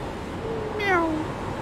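A single cat meow, clear and fairly close, with a rising then falling pitch, heard alone against quiet background.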